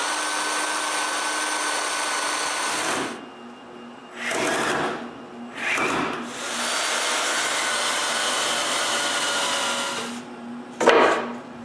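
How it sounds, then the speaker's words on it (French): Power drill boring screw holes into a wooden piece for a homemade wooden bandsaw, a loud steady whine running in long stretches with brief pauses and short bursts in between, no talking. "maintenant, je peux percer des trous pour les vis qui vont retenir ce morceau-là en place"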